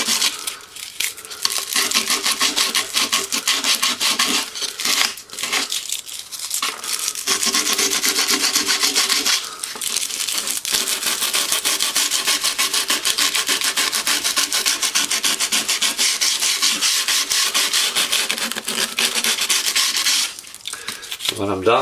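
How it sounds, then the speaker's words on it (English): Sandpaper smoothing the wooden bracing of a parlor guitar, steady rhythmic rasping strokes close up, with a few brief pauses between bursts of rubbing. "Take my sanding paper."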